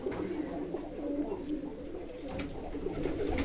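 Pigeons in a farm loft, among them a young female being paired, give soft, faint cooing calls in a low murmur, with a few brief higher sounds near the end.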